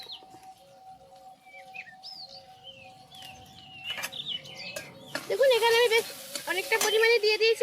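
Amul butter begins sizzling in a pan for paneer butter masala, its frying hiss growing louder and denser toward the end, with chirping birds in the background and a voice faintly talking.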